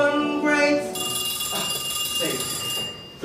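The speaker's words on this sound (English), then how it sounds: "The phone rings." A telephone ringing during a stage performance of RENT, a sustained electronic ring that holds steadily, with voices talking faintly underneath.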